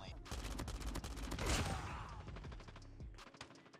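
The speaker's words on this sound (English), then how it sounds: "Where'd I get shot from?" Rapid gunfire in Call of Duty Mobile, a dense stream of shots that swells, then thins into scattered cracks and stops, with a voice talking faintly underneath.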